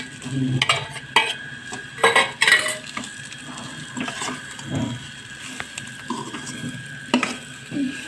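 Potatoes tipped into a pan of roasted peas for UP-style matar nimona, with scattered clinks and scrapes of a spoon against the pan, a few louder knocks near the start and again toward the end, no voices.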